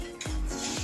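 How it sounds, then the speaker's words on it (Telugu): Ghee sizzling in a hot pan on a gas stove while making halwa, a steady close hiss with a couple of stirring scrapes sweeping through it, no voices. "నేను ఇందులో అయితే నెయ్యి వేస్తున్నాను."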